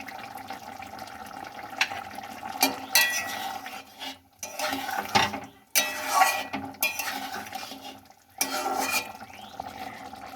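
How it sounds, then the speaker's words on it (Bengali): Ginger paste and flour stirred in a pan for a pumpkin chhakka, with repeated scraping and clinking of a utensil against the pan in several bursts, some louder, and no talk. "আদা বাটাটা একটু নেড়ে নেব ময়দাটাকে দিয়ে দেব"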